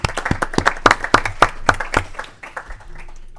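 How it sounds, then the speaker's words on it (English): A small group of people in a legislative committee hearing room give a short round of applause for visiting guests: a run of crisp, separate hand claps that thins out and fades to quiet room tone. "Let's give them a round of applause for making the trip today."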